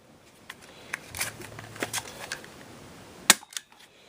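Umarex Rekt OpSix CO2-powered Nerf pistol under stress testing, with weakening performance: light handling clicks and rattles lead into one sharp, close shot near the end, followed by a couple of softer clicks.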